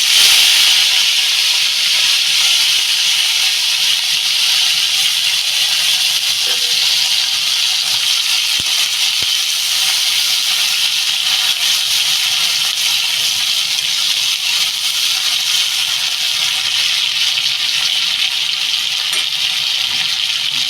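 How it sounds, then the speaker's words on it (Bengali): Dried shrimp, first softened in hot water, frying in hot oil in a home kitchen, giving a steady, loud, hissing sizzle that runs without a break for the whole stretch, with no voices. "তারপরে তেলে ভাজবেন একদম গন্ধ বেরোয় না তা আমি এবার এই মাছগুলো দিয়ে দেবো"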